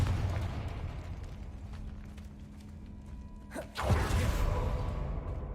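The Confringo fire spell in the Hogwarts Legacy video game bursts with a sharp whoosh and a low booming blast, heard over a continuous rumbling game ambience.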